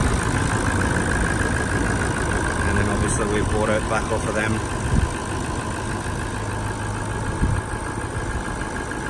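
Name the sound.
2018 Toyota LandCruiser 200 Series Sahara engine idling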